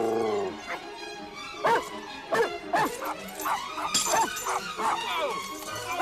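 A small pup barks, yips and whimpers in a busy suburban scene, with sharp excited bursts repeated over several seconds and a crash at one point, mixed with people talking.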